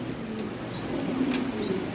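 Pigeons coo softly amid the low murmur of a pigeon seller's shop, with faint calls standing out briefly over steady background noise.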